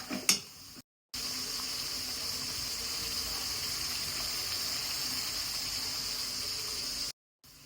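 Steady sizzling of food frying in a pan while chicken gravy is cooked, a continuous hiss with a brief clatter at the start and no voices.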